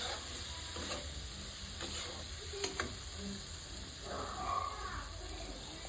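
Chicken curry masala with Kashmiri chili powder and a splash of water frying in a pan, a soft continuous sizzle with a few scraping stirs and a brief bubbling swell near the end, close but quiet.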